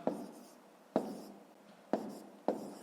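Close pen strokes scratch on paper as numbers are written by hand for a subtraction in a school maths exercise, four quiet bursts of writing in a steady rhythm with no talking.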